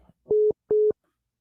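Two long electronic telephone ringback tones sound on an outgoing call, each clean and steady, separated by a short gap, with silence after.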